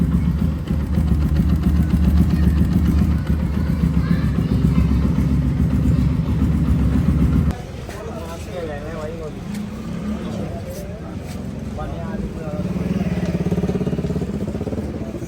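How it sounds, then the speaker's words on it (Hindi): Suzuki GSX motorcycle idling close by, a steady mechanical engine note with rapid tappet clatter standing out over the exhaust, loud for about seven seconds before dropping lower and quieter, with someone talking over it. "अब ये बाइक मैंने स्टार्ट की है ना, एग्जॉस्ट से ज़्यादा इसके टेपर की आवाज़ आ रही है।"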